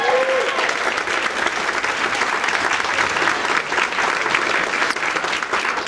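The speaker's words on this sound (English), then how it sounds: "So can we give them a round of applause" Wedding guests at a hotel reception give a round of applause. Dense, sustained clapping fills the room and stays steady for several seconds, with faint crowd murmur beneath.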